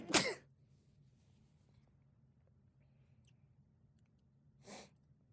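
A single sharp human sneeze bursts out at the start, followed by a quiet stretch of low room hum and a second, softer sneeze-like burst near the end.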